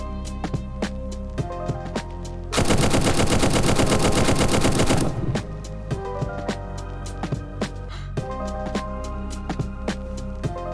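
An AK rifle firing full-auto in the game Zero Hour: Operation Black Dawn, a loud, dense, continuous burst of rapid shots lasting a couple of seconds amid scattered single clicks and thuds.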